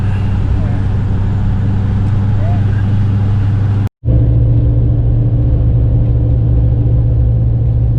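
A 2015 GMC Denali cruising on the road, heard from inside the cabin as a steady, loud low rumble of tire and engine noise with a brief dropout midway.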